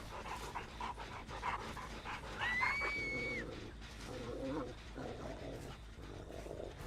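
A killer's dog in a video game pants loudly and rhythmically in close, quick breaths, with a few whines and game sounds layered over it and no talk.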